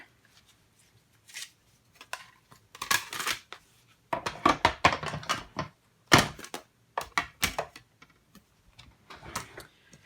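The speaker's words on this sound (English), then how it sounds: "Let me grab my cut and emboss machine." A manual cut and emboss machine die cuts card stock for a birthday card, producing bursts of close, crisp clicking and ratcheting at an uneven rhythm with short pauses between them. No one speaks.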